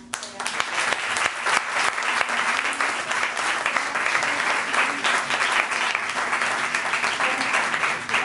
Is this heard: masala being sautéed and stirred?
no